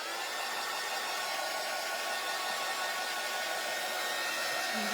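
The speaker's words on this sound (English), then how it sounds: "Where's my heat tool?" A heat tool drying paint on a craft door hanger, a constant close blowing roar that holds steady throughout with no talking.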